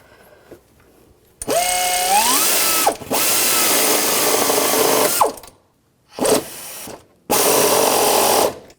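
Power tool driving the lower bolt into the alternator bracket of a 2000-2006 BMW X5 3.0L, four loud whirring runs with short pauses between, the motor pitch rising as each run starts.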